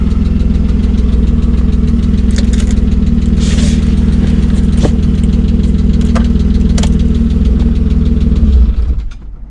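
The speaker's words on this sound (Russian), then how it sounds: "Что-то мотор как-то громче начал работать." A loud, steady car engine idling close by after the car hit a curb while street drifting, with a deep continuous rumble and faint rhythmic knocking, running for several seconds before cutting off at the end.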